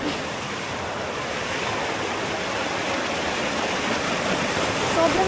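Ourika Falls in the Atlas Mountains of Morocco pours as a continuous, loud, broadband rush of falling water, close by and unbroken, swelling slightly toward the end.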